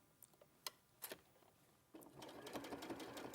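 A domestic sewing machine runs a short reverse stitch, first a few isolated ticks and clicks, then a steady close whirring hum of the needle driving through fabric for the final second and a half.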